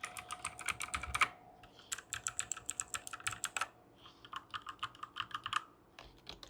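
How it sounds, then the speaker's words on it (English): A Cosmic Byte Firefly mechanical keyboard is typed on in quick, steady bursts of crisp clicky keystrokes, close and fairly quiet, with a few brief pauses between runs and no speech. "let's listen to the sound of each keyboard."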